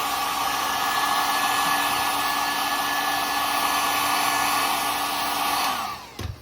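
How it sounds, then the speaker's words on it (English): A Harbor Freight heat gun blows steadily at close range while heating a Glock pistol grip, a loud, even whooshing whine with a tonal hum that cuts off abruptly near the end. "for this next part, this is my heat gun. I got this from Harbor Freight just for basically Handle It Grips."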